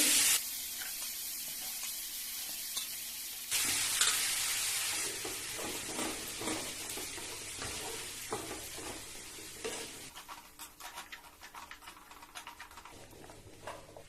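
Kohlrabi pieces sizzling in a pan with Malvani roasted garam masala while being stirred, a soft crackling fry with scraping stirs, fading quieter toward the end.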